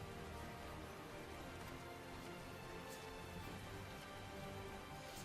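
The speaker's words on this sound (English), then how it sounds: "This is some rain." Heavy rain pours down in the Tales of Zestiria video game, a dense, steady hiss that stays constant throughout with no other sound standing out.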